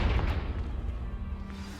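A Confringo fire spell detonates in Hogwarts Legacy, blasting apart a pile of debris that blocks a stairwell: a deep, heavy boom rolls out at the start, then settles into a low rumbling tail.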